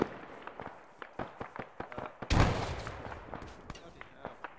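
A grenade goes off in the military shooter Arma 3, one sharp loud blast midway through, set among scattered crackling gunshots and clicks of close combat.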